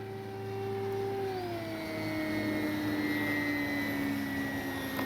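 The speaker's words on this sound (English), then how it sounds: "Gray flying little warbird." An FMS CJ-6 radio-controlled model warbird airplane flies past with a steady electric motor whine that slides lower in pitch as it passes, fairly faint and distant, with no talking.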